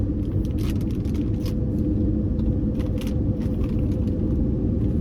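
A car climbs twisty mountain roads, heard from inside as a loud, constant low road rumble with faint rattles and clicks, and no voices.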